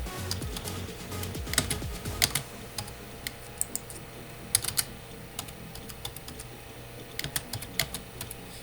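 Fingers type on a computer keyboard in quick, uneven bursts of close, crisp key clicks over a low steady background hum, with no talking.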